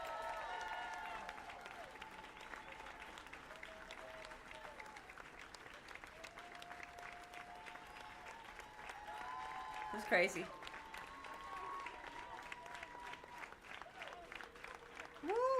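A video game crowd cheers and applauds at the good ending of Slay the Princess. The steady roar of applause runs under a voice and music, with a brief louder burst partway through.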